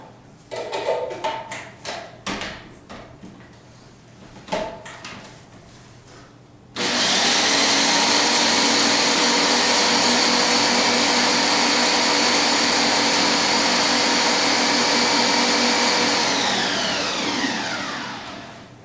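Walnuts ground into flour in a blender or food processor during a Mediterranean cooking class: a few light kitchen knocks, then a loud, steady motor whir for about ten seconds that winds down at the end.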